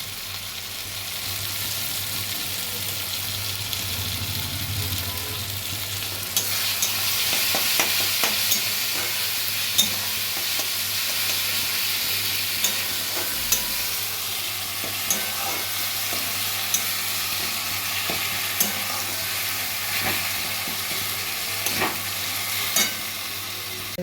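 Tomato curry with turmeric powder sizzles and fries steadily in a pan over low flame, with a continuous hiss and frequent scraping strokes of stirring, close and fairly loud throughout, no voices.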